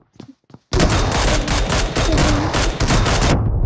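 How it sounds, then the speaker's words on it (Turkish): Sustained automatic gunfire from a weapon in a shooter video game, loud and close, a continuous rapid burst lasting about three seconds after a few faint sounds, with no talking. "Var ya otomatik bir silah var. Otomatik silah."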